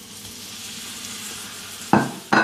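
Steak sizzling in a hot pan makes a steady, moderate frying hiss throughout, and two sharp louder bursts of sizzle near the end suggest the meat being moved or pressed. No one speaks.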